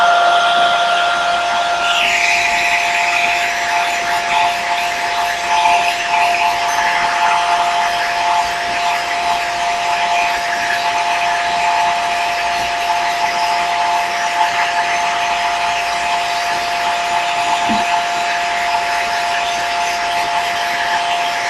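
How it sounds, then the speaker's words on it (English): Conair hair dryer on its lowest heat setting, a loud, close, continuous whirring blow with a steady tonal hum, running on its own with no talk. "Okay, so I got my hair dryer."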